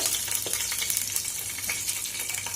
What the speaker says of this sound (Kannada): ಎಣ್ಣೆ ಕಾದಿದೆ. ಈಗ ಹೋಲ್ ಸ್ಪೈಸಸ್ ಹಾಕ್ಕೊಳ್ಳೋಣ.